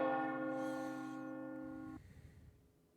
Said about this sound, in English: specifically this noise of almost a ding of a large brass bell and a whisper cross across your ears